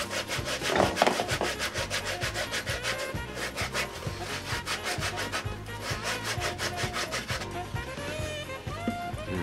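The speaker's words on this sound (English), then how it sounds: "let's go ahead and take the 120 grit and just smooth it out a little bit" Hand sanding with 120-grit sandpaper smooths away burrs: steady, rapid back-and-forth scratchy strokes, close and even in rhythm, continuing without any talking.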